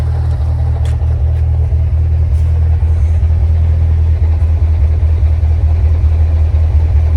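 A Jeep CJ5 engine idles steadily alongside a running electric cooling fan, producing a close, continuous low rumble with no speech.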